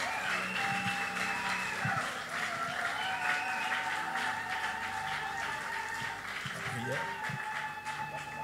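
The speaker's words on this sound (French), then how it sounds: "On peut acclamer le Seigneur." A congregation at a bishop's consecration ceremony applauds and cheers steadily, dense clapping mixed with voices and sustained tones running throughout.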